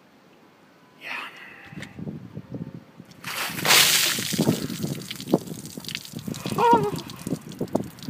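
A document carrier full of cold water dumped over a person for an ice bucket challenge: a sudden loud splash and cascade, then dripping and sloshing, with a startled shout and people talking around it.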